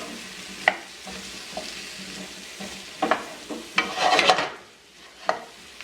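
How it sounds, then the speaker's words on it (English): A spoon scrapes and stirs curry-coated potato pieces around a pot, with irregular knocks against the metal over a continuous sizzle, louder in a burst of scraping toward the end. "you just want to give that a quick stir to sort of deglaze the bottom of the pot here"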